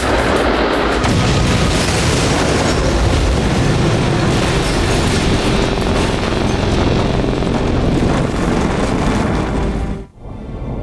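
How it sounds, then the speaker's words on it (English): A bomb explodes in an aircraft's cargo hold. A loud, sustained roaring blast fills the whole clip, then cuts off abruptly near the end. "Once the bomb is in the hold, it is simply a question of timing when it will go off."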